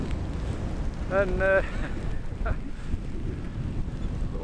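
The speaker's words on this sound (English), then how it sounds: "it is proper windy" Strong wind buffets a microphone on a stormy coast, a constant low roaring rumble with gusts, while a voice briefly speaks in the middle.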